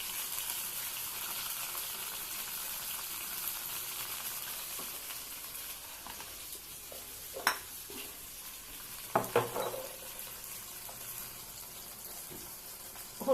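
Ginger-garlic paste fries with onions and a splash of water while being stirred in a pan, giving a faint, steady sizzle broken by a few sharp scraping clinks of the utensil.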